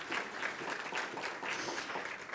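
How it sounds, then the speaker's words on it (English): A roomful of business guests applauds at a World Trade Week kick-off event in New York City, a steady wash of clapping heard at moderate distance and fairly soft. "So give yourselves a round of applause."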